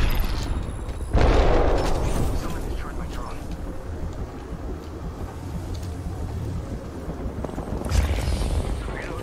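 Enemy gunfire in a competitive online shooter game, with a heavy booming burst near the start and another toward the end over a dense rumble of continuous shots and effects.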